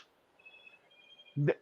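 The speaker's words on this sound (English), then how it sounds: "That's my phone's going off." A mobile phone goes off with a faint, thin electronic tone that holds steadily for about a second in a quiet room, then is cut off by a short burst of voice.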